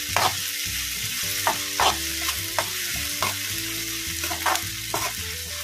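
Egg bhurji masala fries in a pan under repeated stirring: a constant close sizzle is punctuated by rhythmic spatula scrapes every second or so, with a faint metallic ringing underneath and nobody talking.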